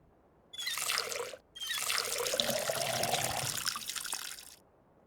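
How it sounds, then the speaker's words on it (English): Water from a sink tap pouring steadily into a watering can in the video game Schedule 1, a short burst, a brief pause, then a longer continuous fill with a faint rising tone, heard alone. "Fill up the watering can at the sink and water the other plants"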